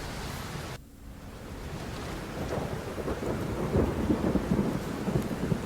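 Heavy monsoon rain pours in a steady hiss, swelling after an abrupt start, while deep rumbles of thunder roll underneath, growing louder toward the end.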